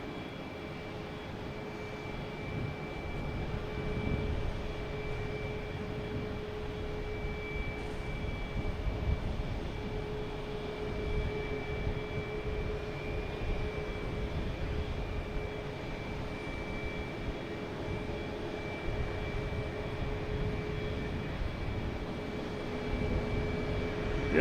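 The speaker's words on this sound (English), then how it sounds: "Next to arrive, United Airlines and A321 Neo coming in from Denver." United Airlines A321neo arriving from Denver at Boston Logan, a sustained jet engine roar with a steady whine, holding level and fairly distant throughout.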